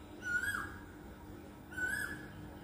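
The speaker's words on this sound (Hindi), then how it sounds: "कोयल वगैरह, मतलब कोयल का आवाज़ आ रहा है ना, देखिए" An Asian koel calls outside on a sunny day amid greenery, two rising whistled calls spaced about one and a half seconds apart, moderately distant over quiet background hiss.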